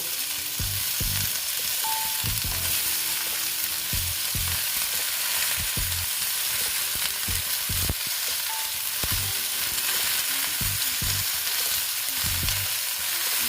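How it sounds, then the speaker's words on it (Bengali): Eggplant pieces frying in a pan for a Bengali vegetable dish, a constant dense sizzle with regular low clunks of a spatula stirring against the pan, close and continuous with no voices. "দিয়ে আবার ভেজে নিচ্ছি।"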